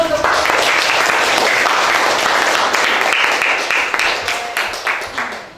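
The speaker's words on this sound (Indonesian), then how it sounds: "Oke, kita beri aplaus dulu." A class bursts into loud, sustained applause after a group presentation, dense clapping that holds steady for several seconds before thinning out into scattered claps and fading.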